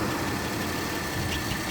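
A 2002 Pontiac Grand Am GT1 with a 3.4-liter V6 and Ram Air idles close by, giving a smooth, steady, continuous engine hum with no voices.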